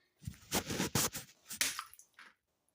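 A piece of ice is dropped into water beside a floating toy boat during an ice experiment, giving a few close wet splashes and squelchy sloshing bursts that fade into quiet.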